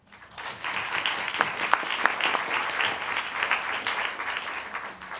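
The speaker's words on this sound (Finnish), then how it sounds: "Annetaanko aplodit?" An audience at an award ceremony breaks into applause that swells quickly and holds as dense, lively clapping with sharp individual claps standing out, then tapers slightly.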